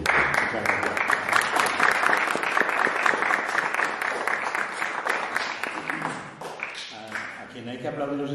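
An audience at a history lecture applauds a speaker. Dense, loud clapping carries on for several seconds, then thins out and tapers toward the end.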